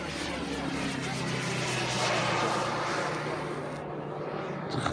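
A Waco MF5 scale model biplane flying at an air show demonstration, its engine droning steadily as a continuous broad roar at moderate distance, with no clear gaps.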